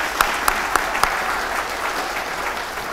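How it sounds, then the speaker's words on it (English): Applause from the audience at a joint fisheries and aquaculture committee hearing, a few sharp claps at the start, then a steady, moderately loud patter of clapping that continues with no talking. "Let's give them a round of applause, please."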